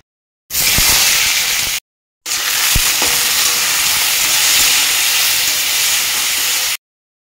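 Sliced bitter gourd and potato fry in oil in a pan with a loud, steady sizzle. The hiss cuts out briefly twice, with a few light clinks of a utensil.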